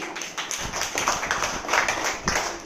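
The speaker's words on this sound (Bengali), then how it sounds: "হাততালি" Schoolchildren in a classroom clap together in a steady, close ragged patter that runs for a few seconds without any voices over it.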